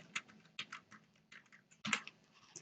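Computer keyboard typing while writing HTML list code, a few quick bursts of key clicks with short pauses between them, close and fairly quiet, with no talking.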